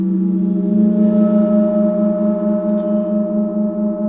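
Gong rubbed with a superball mallet, a sustained singing drone of steady layered tones that swells slightly and holds for several seconds, loud and alone.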